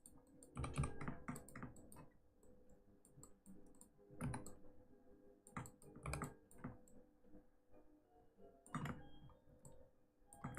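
Steady typing on a computer keyboard that has seen about two years of use, with quick clicky keystrokes in irregular bursts and short pauses, fairly close and with no voices.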